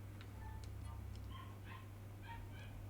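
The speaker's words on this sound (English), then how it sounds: "I've got the yappy dog outside, so I do apologise if you can hear it." A small yappy dog outdoors gives faint, high yips and whimpers in short scattered bursts over a steady low hum, heard from a distance.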